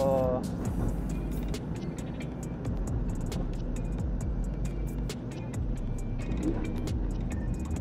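A Mazda Roadster engine drones steadily while driving on a scorching hot day, a continuous low rumble with road noise filling the cabin throughout.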